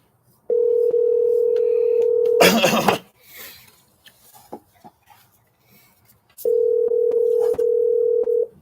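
A telephone dial tone while calling in to a live show: a steady, loud tone holds for about two seconds, breaks off into a burst of noise and scattered clicks, then returns steady near the end.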